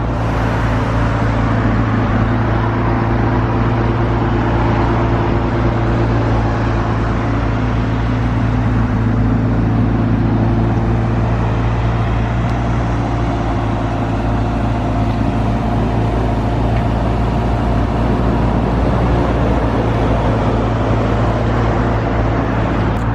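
Constant engine rumble and road noise at a petrol station, loud and unbroken with a steady low hum throughout and no distinct events.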